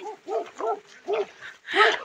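A dog barks several times in a quick, evenly spaced series, fairly close, ending in a harsher, noisier yelp.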